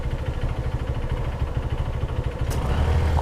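A 150cc motorcycle engine runs close by with a steady low throb, then picks up slightly as it is accelerated, sounding dull and muffled, with no voices.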